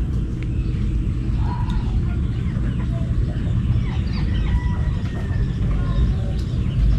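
Chickens cluck on a rural farm, their calls fairly faint and scattered over a steady low rumble of background noise.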